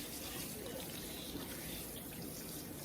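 Tap water runs steadily over raw meat being rinsed in a kitchen sink, a constant soft hiss of flowing water, faint and even throughout.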